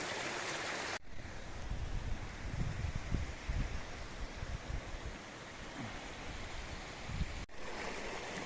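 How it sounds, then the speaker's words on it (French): Continuous rushing water of a wild stream flowing nearby in a forest near Pont-à-Mousson, France, a steady broadband wash with low gurgling, fairly faint and unbroken. "Avec le ruisseau sauvage, il passe là."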